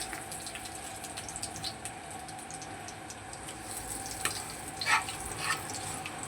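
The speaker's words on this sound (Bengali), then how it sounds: "গোটা শুকনো লঙ্কা, গোটা জিরে আর তেজপাতা ফোড়নে দিয়ে দিলাম" Whole dried red chilies, cumin seeds and bay leaf sizzle in hot oil as tempering for moong dal with papaya, a soft, steady crackle with a few sharper pops.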